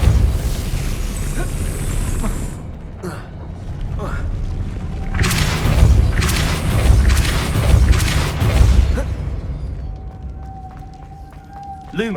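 Depulso spell cast in Hogwarts Legacy, heavy booming blasts and rumbling impacts surging through the middle, with a spoken voice near the start and game ambience around them.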